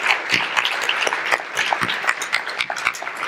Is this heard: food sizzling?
no